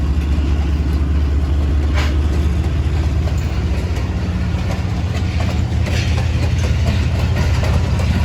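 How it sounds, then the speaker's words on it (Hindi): A powerful American locomotive hauling a passenger train out of Lahore gives a loud, steady rumble with continuous rail clatter as it gathers speed. "एक बहुत ही पावरफुल अमेरिकन लोकोमोटिव।"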